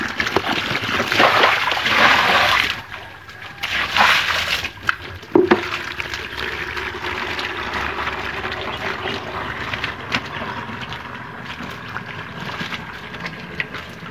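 Water splashing and sloshing as dirt is flushed off the floor of a tilapia fish pond. A loud, churning burst is followed by a steadier, softer rush of running water, heard close and alone.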